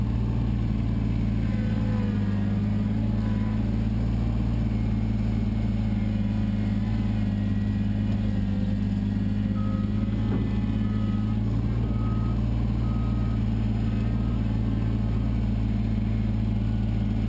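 A small Kubota tractor clears snowy land in the Yukon, its engine running in a steady, low mid-pitched drone that holds constant and fairly loud throughout with no speech over it.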